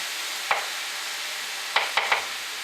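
Ground beef browning in a hot pan, a steady sizzle underneath a few scraping strokes as a spoon breaks it apart, close and fairly loud.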